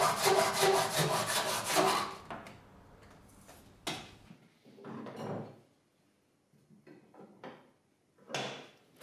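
A hand saw cuts wood for a Japanese corner splice joint, a quick run of rhythmic rasping strokes at the start, then scattered lighter scrapes and knocks with pauses between them.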